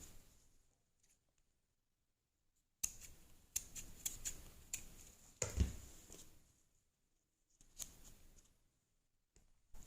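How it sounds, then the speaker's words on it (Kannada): Scissors snip and trim the thread of a saree tassel, giving several close bursts of crisp cutting and rustling separated by near-silent pauses, faint overall with no talk. "ಹಾಗೆ ಸರಿ ಥ್ರೆಡ್ನ ಕಟ್ ಮಾಡಿ ಕುಚ್ಚಲ್ಲಿರೋ ಎಕ್ಸ್ಟ್ರಾ ಥ್ರೆಡ್ನ ನೀಟಾಗಿ ಟ್ರಿಮ್ ಮಾಡ್ಕೋಬೇಕು"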